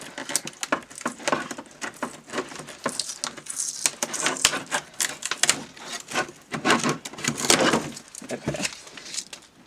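Packing tape ripped off the cardboard box of a 30th Anniversary Barbie and Ken Star Trek giftset, a close series of irregular tearing and crackling pulls with scraping bursts and short gaps between them.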